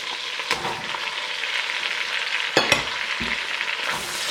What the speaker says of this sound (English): I'm going to just drop our onions right in here and let them start cooking.